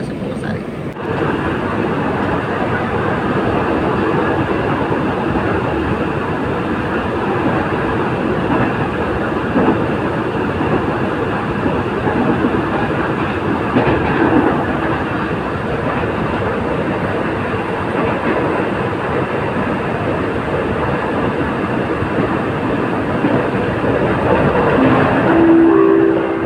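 Steady rumble of a KRL Commuter Line train rolling along rails between Yogyakarta and Solo, continuous and even throughout, with a brief tonal chime near the end.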